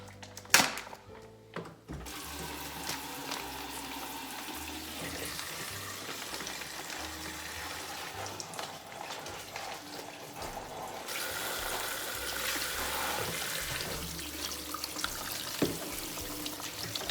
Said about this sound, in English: I'm going to open up the bag here and rinse it in a little cold water.